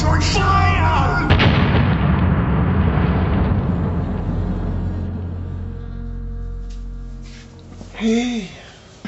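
A heavy gunshot or cannon-like blast booms loudly in a dramatized scene, its rumble decaying over several seconds, followed by a brief shorter burst near the end.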